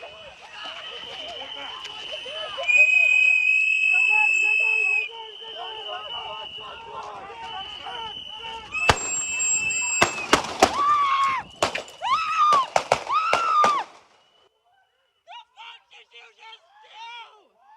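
Several sharp gunshots ring out in quick succession on a street as a man is shot, with loud bangs clustered together amid shouting and crowd noise.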